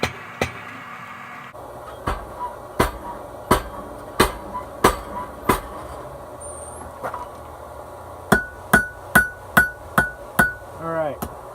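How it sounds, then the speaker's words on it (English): Heavy metallic blows from a treadle hammer forging metal for pizza cutters strike one after another, first spaced apart and then in a faster regular series, each ringing briefly. "that's what I'm going to do on the treadle hammer"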